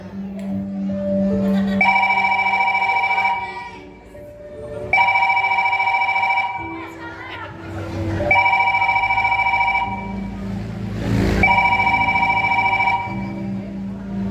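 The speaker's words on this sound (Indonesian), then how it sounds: "tiba-tiba Rahmat mendapat panggilan telepon dari orang tuanya" A telephone rings with an incoming call in repeated two-second bursts separated by short pauses. Each burst is loud and close, and a steady background murmur runs beneath it.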